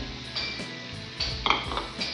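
Mashed pumpkin stirred into a hot tempering in a pan for kaddu sabji, giving scattered clinks and scrapes of a spoon against metal with a few sharper knocks, close and moderately loud, no voices.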